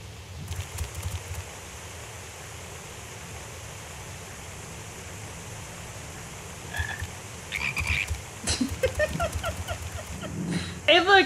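Toads croak in the game Final Fantasy XIV: Endwalker, with low, fairly steady croaking under a rushing, noise-like ambience, followed by brighter chirping bursts near the end.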